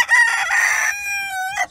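A Sultan-breed rooster crows loudly and close inside a coop, one long drawn-out cock-a-doodle-doo with no talking.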